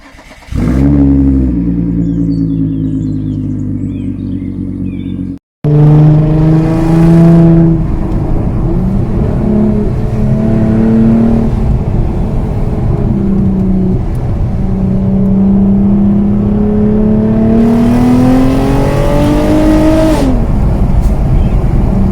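2012 Hyundai Genesis Coupé with a 3.8 l V6 accelerating hard, the engine note climbing through the gears with a brief pause at a shift, loud and close, with voices talking over the roar.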